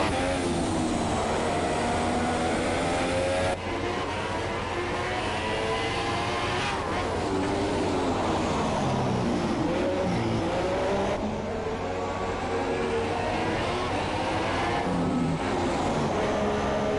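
An F2 race car runs on the Belgian Grand Prix circuit in a racing video game, its engine droning loudly and continuously with rising and falling pitch as it goes through gears, alone without speech.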